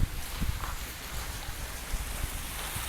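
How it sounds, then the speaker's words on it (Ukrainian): Steady rain falling outdoors during tree cutting from an aerial lift near power lines, a soft continuous patter with scattered heavier drops, fairly close and unbroken, with no voices. "Почався дощ"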